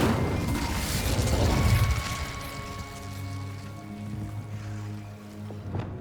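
An Incendio fire spell cast in Hogwarts Legacy: a muffled whooshing burst of flame that swells and fades, followed by a low sustained magical hum with faint ringing tones, fairly soft and without speech.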